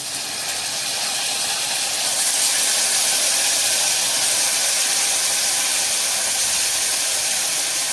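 Cut eggplant and onion go into hot oil in a home kitchen, producing a steady, loud, dense sizzle and hiss that swells after a couple of seconds and stays constant with no talking.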